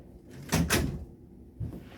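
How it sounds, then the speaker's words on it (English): An office door is pushed shut, giving a close wooden swing and clunk with a quick double knock as the latch catches, then a softer thud. "Let me close my office door."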